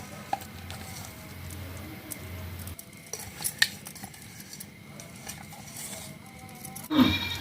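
Coriander vadi batter is stirred with a ground paste in a metal vessel, giving soft scraping and clinking of a spoon against the pot, faint and intermittent, with a louder clatter near the end.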